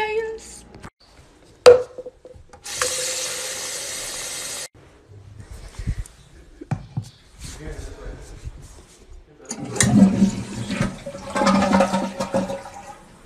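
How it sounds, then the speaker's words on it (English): A household toilet flushes with a loud rushing, gurgling surge of water and a hiss as it refills. There is talking around it and other household clatter. "I just flushed the toilet"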